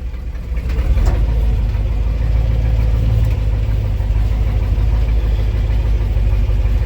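A 1959 Ford F-100 truck, sitting unused for a year, starts up: a brief cranking catch settles into a steady, loud low-pitched engine idle rumbling close by with no talk.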